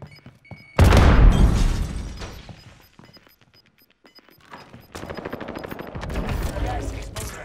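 A frag grenade blast in Call of Duty Warzone, a loud booming burst followed by a decaying rumble, then a second stretch of rapid gunfire-like crackle and thumps; game voices speak in the background.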